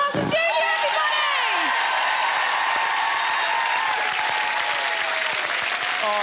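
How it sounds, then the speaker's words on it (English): Applause and cheers from a television game show studio audience: dense, loud clapping that carries on steadily for several seconds, with a whoop and a host's voice at the start. "A big round of applause for Julia, everybody!"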